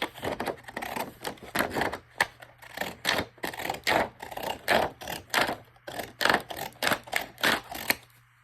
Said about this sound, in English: I'm just going to cut this up the middle.